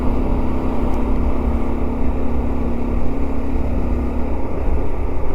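A Honda Varadero 125 motorcycle cruises along a country road, its engine a steady droning hum mixed with rushing wind noise, constant and fairly loud for the whole ride.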